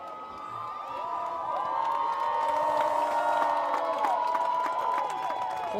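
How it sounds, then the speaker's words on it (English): A crowd at a varsity high school football game against Lake City cheers and shouts in the stands, a sustained roar with whoops and high voices swelling from moderate distance. "So this crowd's still cheering them on."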